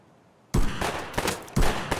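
Bursts of gunfire in the video game Escape from Tarkov, loud and close, with a sharp onset followed by rapid repeated shots in two volleys.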